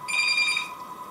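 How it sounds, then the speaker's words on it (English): A single electronic ring from a home telephone on a homestead, a warbling tone about half a second long that then fades; no one speaks. "Sorry about the phone."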